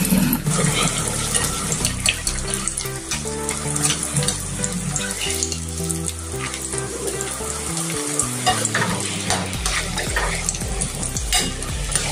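Puffed-rice chivda snack mix frying and being stirred in hot oil in a home kitchen, a steady close sizzle with scraping stir sounds, loud and continuous with no talking.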